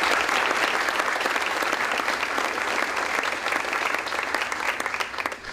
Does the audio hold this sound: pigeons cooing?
no